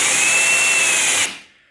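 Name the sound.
power drill boring a hole with the finished drill bit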